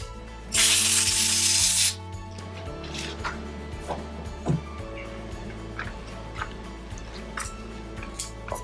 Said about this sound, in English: blow this one out with some compressed air